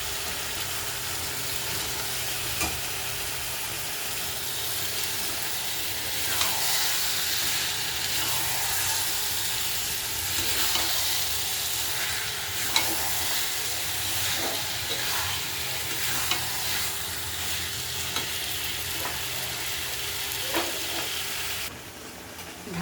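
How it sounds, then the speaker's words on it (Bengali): Meat fries and sizzles steadily in a hot pan for a long stretch, a dense hiss carrying throughout, with scattered clicks and scrapes as it is stirred, close and even. "মাংস দিয়ে দিচ্ছি।"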